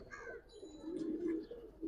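A pair of Arabian pigeons coos nearby, a low, continuous throaty murmur that swells and fades, topped by a few brief higher chirps, with no talking.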